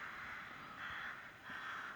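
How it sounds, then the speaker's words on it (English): Birds call in repeated harsh, crow-like caws, three broad bursts spread evenly over two seconds, moderately loud against steady outdoor noise, with no talk. "And you can hear the Percy's blackbirds now"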